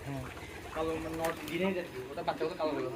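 Pigeons coo repeatedly at a pigeon market while people talk nearby, the soft throaty calls overlapping the voices throughout.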